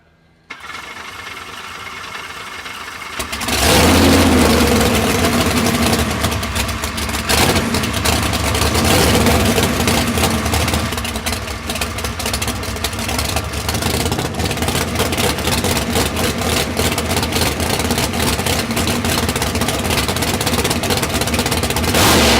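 A naturally aspirated 1,600-horsepower truck-pulling engine at a truck and tractor pull in Tomah, Wisconsin, fires up after a few seconds of lower background noise and then idles with a loud, rough, steady rumble close by.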